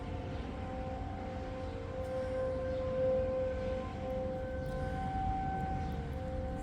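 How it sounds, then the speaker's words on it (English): Tornado warning sirens wail steadily in the distance, faint and sustained beneath low background rumble, with no voices. "are they sirens going on?"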